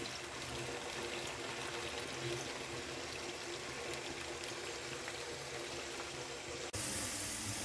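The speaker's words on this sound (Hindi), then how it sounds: "स्पाइसी फिंगर कढ़ाई बनाने के लिए हम सबसे पहले पोटैटो को फ्राई कर लेते हैं।" Potato fingers frying in hot oil in a karahi give a steady, dense sizzle that holds evenly throughout, with no talking.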